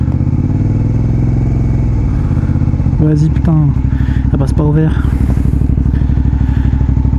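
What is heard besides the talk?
motorcycle idling at a traffic light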